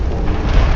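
A torpedo striking a ship in a Spanish-American War naval battle game, heard as one short, loud, low rumbling explosion.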